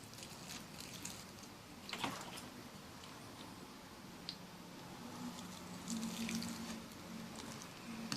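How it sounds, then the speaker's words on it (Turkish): Water poured over lemon seeds planted in soil, a faint soft pattering and trickling that runs steadily for several seconds, quiet and without talk. "Şimdi e, toprak nemlenecek kadar hepsine su veriyorum."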